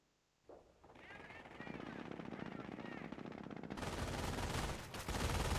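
Machine gun fire in the Company of Heroes strategy game on the Semois map: rapid, sustained bursts of automatic fire that build and grow louder, amid other battle noise.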